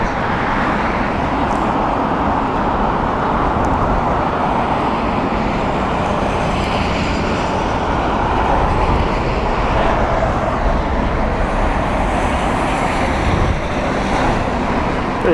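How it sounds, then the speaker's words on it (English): A British Airways Airbus A380 at Heathrow Airport gives a broad, steady jet rumble from a distance, holding at an even level throughout with no talking. "British Airways there, A380 doing a proper good turn there."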